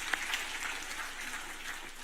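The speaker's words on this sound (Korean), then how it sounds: "박수 한번 하십시다" Congregation applause during a Sunday worship service at a Korean church, a soft, steady patter of clapping with a couple of sharper claps near the start, fairly distant.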